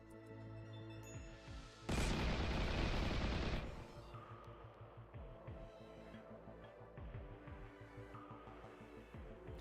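Gunfire in the Rimworld video game: a loud burst of rapid automatic fire for about two seconds, then scattered shots and bursts over a low steady game soundscape.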